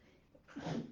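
A single short sneeze bursts out near the microphone after a quiet, breathy moment.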